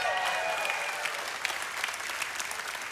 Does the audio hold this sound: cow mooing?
no